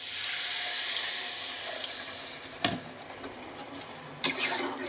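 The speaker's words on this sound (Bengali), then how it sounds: "এবার আমি জল দিয়ে দিচ্ছি।" Water poured into a cooking pan of vegetables and semolina for a spicy suji dish gives a steady, soft rushing hiss throughout, with two brief sharper clinks near the middle and end.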